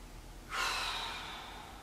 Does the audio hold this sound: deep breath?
yes